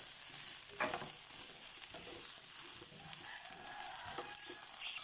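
Shrimp and pepper stir-fried in a pan with a steady sizzle and scraping stirs and clinks of a utensil throughout.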